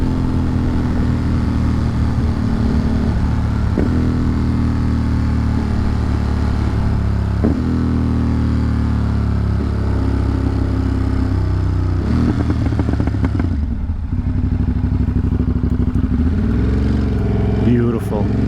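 A motorcycle carves through forest twisties, its engine droning steadily with rising and falling revs and a few clattering shifts, loud and close under wind, while the rider talks over it.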